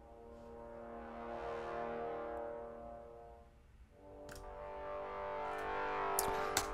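A sustained brass section holds long, full chords that swell and fade, then a new chord enters with faint percussive ticks on top.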